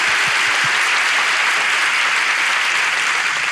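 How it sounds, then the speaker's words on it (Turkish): Studio audience breaks into loud, sustained applause at the opening of a Turkish relationship-quiz TV show in Ankara, a dense wash of clapping filling the whole stretch at steady volume. "Ankara'da ilişki testi alkışlarla başlıyor."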